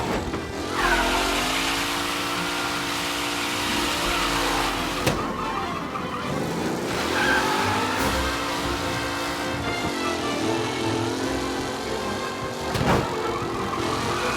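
Race cars in Mafia Definitive Edition roar past in a continuous, loud engine drone with rising and falling revs and brief sharp whooshes as cars sweep by, no talking.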